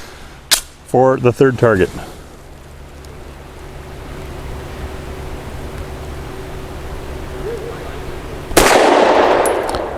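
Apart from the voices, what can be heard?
Walther PDP pistol shooting Winchester Silver Tip 115 grain JHP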